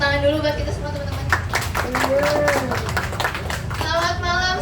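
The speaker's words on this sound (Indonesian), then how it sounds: "Tepuk tangan dulu buat kita semua teman-teman." Clapping from a stand-up comedy audience rattles in quick bursts under and between a performer's speech, moderately loud and close.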